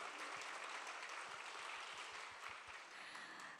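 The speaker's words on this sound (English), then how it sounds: "Please give a huge round of applause." Applause fills an opening ceremony for ASPAC 2024, the Asia Pacific science centre gathering, a steady wash of many hands clapping throughout, fairly faint and distant.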